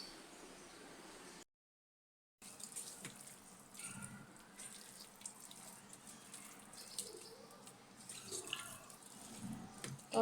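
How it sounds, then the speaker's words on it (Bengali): Water runs steadily from a tap while a small child is bathed, a soft close splashing and trickling with faint handling noises, after a brief silent gap. "হুজাইফাকে গোসল করাই দিচ্ছি।"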